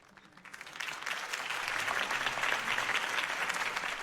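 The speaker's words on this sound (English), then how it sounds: "could have heard that applause" Crowd applause in the video game Batman: The Telltale Series swells in after a brief pause and holds steady, a dense wash of clapping heard from some distance.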